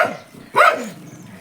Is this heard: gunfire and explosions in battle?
no